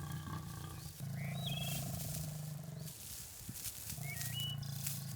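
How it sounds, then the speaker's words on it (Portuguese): Wild lions give deep, drawn-out roars, two long throaty calls with a pause between them, heard up close and loud with no voices. "Cada rugido carregava o fogo de dias de frustração reprimida."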